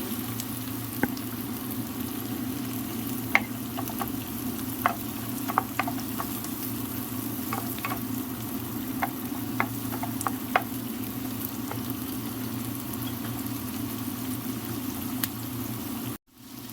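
Chopped onion fries in a pan as it is stirred, a steady close sizzle with repeated light scraping and tapping of a utensil through the whole stretch before a sudden stop.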